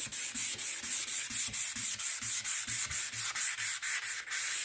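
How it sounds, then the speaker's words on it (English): Rhythmic back-and-forth scraping of sandpaper by hand on a painted surface, close and steady, each stroke evenly spaced in a continuous run. "I want to essentially sand this till I don't see that there's anything but flat."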